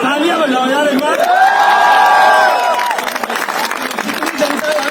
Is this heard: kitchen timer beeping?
no